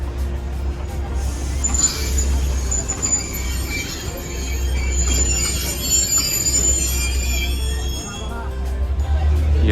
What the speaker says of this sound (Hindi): और ये हरी झंडी दिख गई है, ये ट्रेन चल पड़ी।